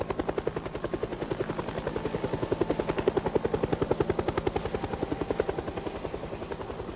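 A video game helicopter drones steadily overhead, its rotor chopping in a fast, even pulse that swells slightly louder in the middle and stays continuous throughout.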